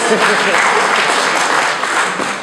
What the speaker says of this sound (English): Give him a round of applause, yes.